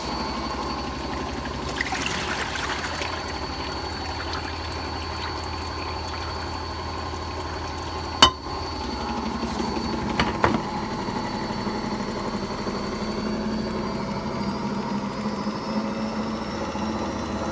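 A Miele W864 washing machine at the end of its first rinse on a 95-degree cotton wash, with a steady faint mechanical hum, trickling water and a few sharp knocks partway through.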